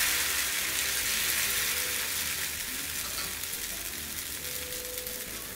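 Pearl millet dosa batter sizzles steadily on a hot pan, a close, even crackling hiss that holds through the whole stretch with no voices.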